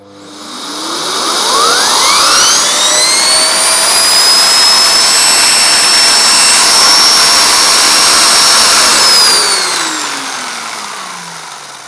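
A Hoover Dustmanager cylinder vacuum cleaner with its nozzle fitted spins up with a rising whine, runs loud and steady for several seconds, then winds down.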